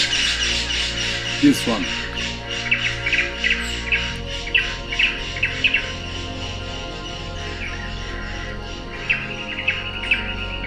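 A bare-throated bellbird calls in the forest of Picinguaba, Serra do Mar, Brazil, giving sharp, loud, metallic squawks repeated in irregular bursts over a steady insect drone, with a person speaking briefly nearby.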